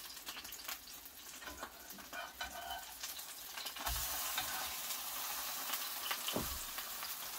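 A liver pancake for a liver cake fries in a pan with a steady close sizzle and spatter, growing louder and denser midway, with a few clicks of a spatula and no talking.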